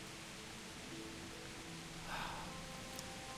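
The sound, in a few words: rain in video game Kingdom Come Deliverance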